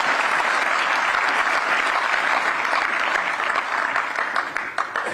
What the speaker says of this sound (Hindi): तो एक बार उनके लिए भी तालियां बजाएंगे।